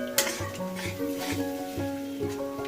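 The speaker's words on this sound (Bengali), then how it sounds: "দইটা দেওয়ার সঙ্গে সঙ্গে একটু এইভাবে নাড়িয়ে দিতে হবে" Whisked yogurt being stirred in a hot pan for doi potol, a pointed gourd curry, with a steady close sizzle and repeated scraping strokes of a spoon against the pan, some faint clinks, and no talking.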